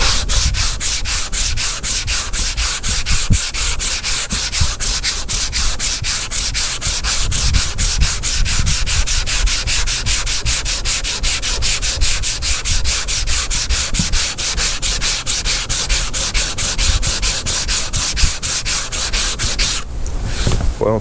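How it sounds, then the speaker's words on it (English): Hand block sanding on car bodywork of a 1978 Chevy Impala Aerocoupe, using a 17-inch inline hard-block sander with 80-grit paper. Rapid, rhythmic rasping strokes repeat loudly and evenly for about twenty seconds with no talk. "We're gonna be using this 17-inch inline sander."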